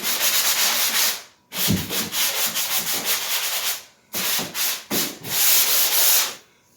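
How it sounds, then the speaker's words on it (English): Sanding drywall joint compound in an inside corner: loud, close abrasive scraping in rhythmic back-and-forth strokes, broken by short pauses between bursts. "So when you're sanding out this one here, you got to go in deep into that angle."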